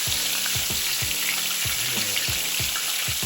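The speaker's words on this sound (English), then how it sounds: "let's go ahead and give our pork chops a flip" Pork chops fry in hot oil in a pan, giving a steady, close crackling sizzle throughout with soft periodic bumps and no talking.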